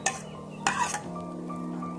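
Chopped garlic is tipped into a hot pan of spicy lime sauce for steamed squid and stirred, with two sharp utensil clinks against the pan followed by a low steady hum of faint sizzling.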